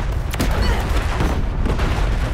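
Airstrike explosions in Modern Warfare 3 roll as deep, continuous rumbling booms with a couple of sharper gunfire cracks near the start, loud and sustained.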